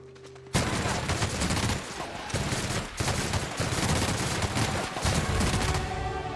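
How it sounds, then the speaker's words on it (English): Machine gun fire in The Outer Worlds, a sudden loud sustained burst of rapid shots hammering on for several seconds with brief dips between volleys. "Okay, yeah, the machine gun is good."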